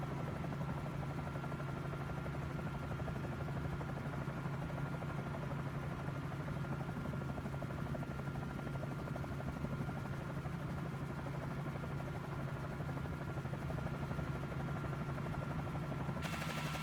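A Bell 47 J-2 helicopter in Microsoft Flight Simulator drones with a steady, loud rotor and engine throb as it gains speed and climbs away from the airfield, with no talk over it.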